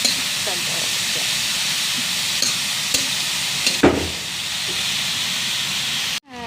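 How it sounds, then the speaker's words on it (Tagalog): Papaya escabeche being stirred in a pan until saucy, a steady broadband sizzle and hiss running throughout with a few small clinks and a brief louder scrape near the middle, ending abruptly. "Haluin natin siya hanggang sa mag-sabaw siya."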